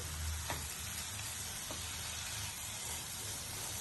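Chopped coriander gently mixed into a sizzling manchurian biryani in a pan, a steady soft frying hiss with a couple of faint utensil scrapes, no talk.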